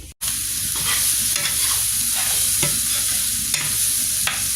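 Steady close sizzling of greens frying in a pan, with occasional scrapes and clicks as they are stirred.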